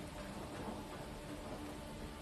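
Steady rain with low thunder rumbling in a video game scene, a dense even wash of rainfall at moderate distance, continuous and fairly quiet, with no talking.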